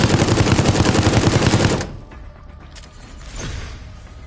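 Rapid automatic gunfire from a Resident Evil Resistance match, a loud steady burst for nearly two seconds that stops abruptly, followed by quieter in-game mechanical creaks and thumps.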